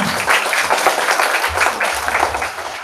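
An audience at a startup meetup claps for a speaker, a moderately loud, somewhat sparse round of hand clapping with low rumbling handling noise underneath.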